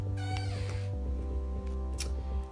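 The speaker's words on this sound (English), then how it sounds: "I think you're hearing some cat related shenanigans" A cat meows in a drawn-out, wavering cry, followed by a few shorter vocal sounds over a steady low hum.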